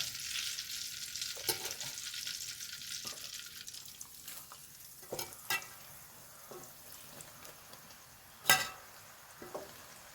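Pieces of jackfruit fry in coconut oil with a soft, steady sizzle, punctuated by occasional sharper clinks and scrapes of stirring, some louder than others, with no talk.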